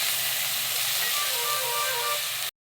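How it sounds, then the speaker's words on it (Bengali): Water poured into hot oil in a pan for sarshe ilish erupts into a loud, dense sizzling hiss that holds steady, then cuts off abruptly near the end. "এবার তেলের মধ্যে আমি জলটাকে দিয়ে দেবো। জলটাকে দিয়ে একটু ফুটিয়ে নেব।"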